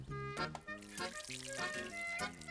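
Water being poured onto plants outdoors, heard as a continuous splashing, gurgling flow that rises and falls in short surges, fairly close and steady, with no talking over it.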